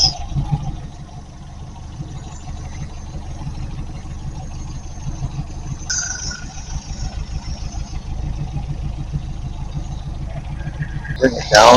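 An MGB Roadster engine idles steadily with an even low mechanical throb throughout, close up, and near the end a sharp louder burst cuts in.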